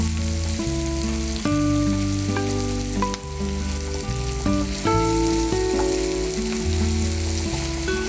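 Curry leaves and green chillies fry in hot oil for chicken masala, a steady sizzle that runs through the whole stretch under loud, continuous background music.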